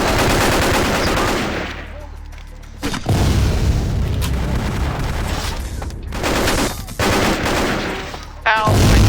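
Guns in Vampire the Masquerade Bloodlines fire in loud, close bursts and rapid volleys, dense and booming, with brief pauses between strings of shots.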